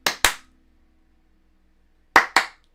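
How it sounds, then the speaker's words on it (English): Two pairs of sharp hand claps, close and loud, separated by a long silent gap, used as a joking way to switch room lights on and off. "I just clap."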